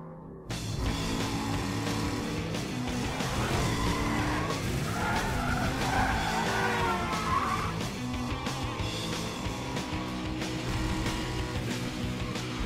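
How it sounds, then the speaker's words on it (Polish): Race cars in Need for Speed Carbon skid with steady tire squeal over a continuous droning engine roar, the screech swelling in the middle and sustained throughout. "przenieśmy się już na wyścig szefem, zobaczymy, czy uda nam się tą Angie pokonać."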